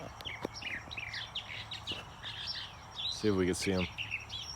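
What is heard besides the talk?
northern mockingbird singing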